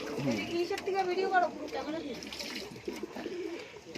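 Fancy pigeons in a loft coo repeatedly, soft warbling calls rising and falling close by, with someone talking over them throughout.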